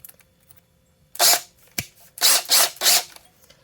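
A small drill bit bores into a miniature craft mushroom, giving several short gritty whirring bursts close up, separated by brief pauses and a sharp click.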